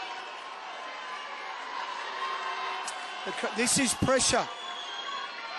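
Steady cricket crowd roars and murmurs at a women's World Cup match as the tension builds, a continuous broad wash of noise under a commentator's voice.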